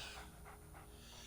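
Dogmeat, the dog companion in the video game Fallout 3, pants in a quick, soft rhythm of breathy puffs, close and steady over a faint game background hum.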